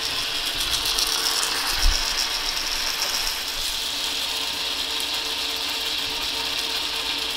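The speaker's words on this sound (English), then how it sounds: "there's probably enough oil on the gears now where we won't hear a difference when we pump it" A hand pump for changing gear oil clicks and ratchets in a steady, fast mechanical rhythm, running close and continuous throughout with one brief low thump near the start.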